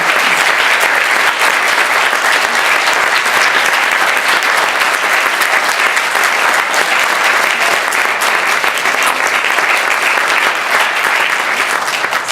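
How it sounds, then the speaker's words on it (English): Sustained, loud applause from a conference plenary audience, steady and dense for about twelve seconds with no pauses. "I would really ask you for a grand applause for my commissioners team"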